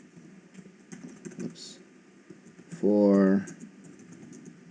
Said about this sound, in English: we're gonna type the words